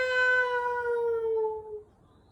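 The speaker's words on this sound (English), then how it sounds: "bow-wow-meows, something like a howl crossed with a meow" A single long, drawn-out cat meow that slides downward like a howl, loud and close, then fades into quiet.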